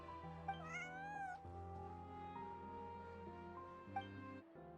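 A cat meows in the Genshin Impact video game, a clear rising and falling mew over steady background music, followed later by a second short meow, soft and close.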